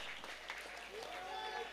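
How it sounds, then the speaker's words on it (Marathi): A crowd applauds at a local tennis-ball cricket league semi-final, the Kanjur Premier League 2024 in Kanjur, with faint steady clapping from a distance under the commentary. "एकदा जोरदार टाळ्या वाजून दोन्ही टीमला आपण प्रोत्साहित करूया"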